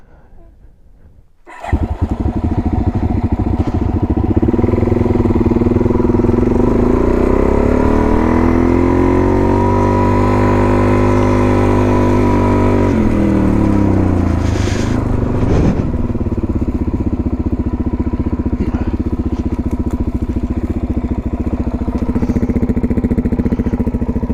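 Motorcycle starting abruptly and then driving along a road near Wynoochee Dam, a loud, close engine drone that rises and falls in pitch as it accelerates and shifts, continuous for the rest of the ride.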